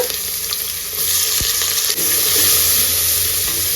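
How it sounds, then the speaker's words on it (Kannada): Onion sizzling loudly in hot oil with spice powder for home-made Donne biryani, a constant close crackle broken by a couple of utensil knocks, with no voices. "ಜೊತೆಲ್ಲೇ ಈರುಳ್ಳಿ ಹಾಕೊಂಡು ಇದನ್ನ ಚೆನ್ನಾಗಿ ಫ್ರೈ ಮಾಡ್ಕೊಳ್ಳೋಣ"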